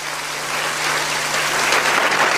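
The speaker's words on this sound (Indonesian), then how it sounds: "berikan tepuk tangan bagi Allah kita" A church congregation at a revival service breaks into loud, continuous applause, a thick wash of clapping with no voices heard.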